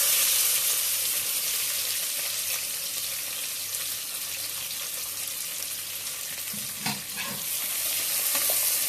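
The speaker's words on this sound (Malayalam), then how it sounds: "ഉള്ളി ഒരു ബ്രൗൺ കളർ ആകുന്ന വരെ നമുക്ക് വഴറ്റി ചെയ്ത് കൊടുക്കാം." Chopped onion browning in a pan for mutton curry, a constant bright sizzle with intermittent stirring clatter near the end, close and steady, no talking.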